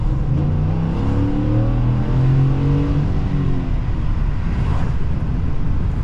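A Ford F-150 XLT engine hums and revs while driving, its exhaust note rising in pitch and then easing off, heard close over steady road and wind noise.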